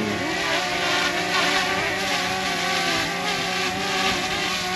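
A DJI Mini 2 drone lifts off outdoors in strong wind, its close, steady whirring buzz running without a break and staying loud throughout, with no talking over it.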